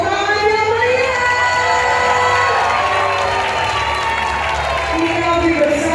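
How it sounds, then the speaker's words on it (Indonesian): Lively applause and cheering from a crowd at a national leadership meeting of Indonesian market traders, loud and continuous, with shouts and voices layered over the clapping throughout. "Sambil diiringi dengan tepuk tangan yang meriah."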